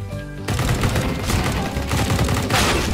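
Rapid gunfire from a Counter-Strike: Global Offensive competitive match, a dense, loud burst of shots that begins after a short lead-in and keeps going steadily to the end, with no talk over it.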